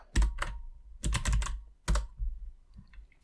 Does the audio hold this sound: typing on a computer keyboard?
yes